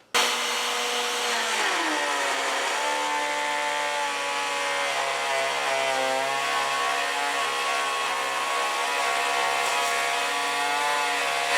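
Router bit cutting a pine two-by-four guitar body clamped to a welding table, a loud steady high-pitched whine after a sharp start, holding close and continuous throughout.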